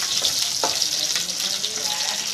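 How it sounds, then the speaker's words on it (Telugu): Coriander seeds and cumin dry roast in a pan, giving a continuous close hiss and crackle with a few scraping stir strokes, no talking. "1/2 స్పూన్ జీలకర్ర ఇవి వేసుకొని బాగా వేపేసుకోవాలి."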